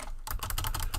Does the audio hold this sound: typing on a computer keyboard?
yes